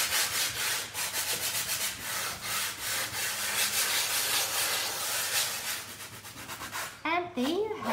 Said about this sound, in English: I'm going to sand until I'm happy, and until I'm happy with the amount of white of the stencil of Paris that is being revealed